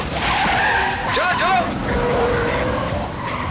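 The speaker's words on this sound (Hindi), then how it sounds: "चलो तेजी से चलो गाड़ी आ रही है।" Tires skid and squeal on a car in a Hindi-dubbed action film, a sustained loud screech with sliding pitch sweeps over steady engine noise and film music, with voices talking around it.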